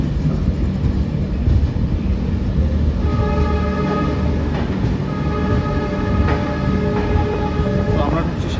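A Garib Rath Express rolls into a platform at Santragachi Junction, its steady rumble and wheel clatter sustained throughout, with a long horn blast sounding midway and continuing in bursts; a voice talks over the train noise.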